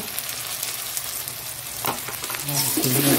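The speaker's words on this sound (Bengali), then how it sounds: "সব একসাথে দিয়ে ভালো করে কষিয়ে নেব" Masala with chili powder is sautéed for chicken curry in a pan, giving a continuous close sizzle with a few stirring scrapes, rising slightly toward the end.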